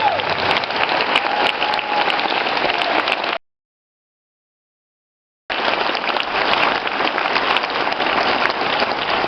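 Mourners at a funeral stand and clap, a broad, sustained roar of applause from a large gathering that cuts to silence for a couple of seconds, then resumes just as full.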